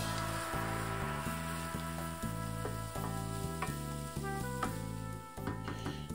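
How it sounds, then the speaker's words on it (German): Onions, garlic and chopped chili frying in rapeseed oil in a pan, a steady close sizzle broken by repeated stirring scrapes and clinks of a utensil, with no talking. "Zwiebeln und die Knoblauchzehen in 2 Esslöffel Rapsöl gebraten."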